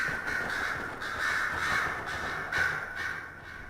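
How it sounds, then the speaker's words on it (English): Crows caw repeatedly in the video game Dragon Age: Inquisition, a flock of harsh, overlapping calls in quick succession over soft ambient background noise. "What's up with all the crows?"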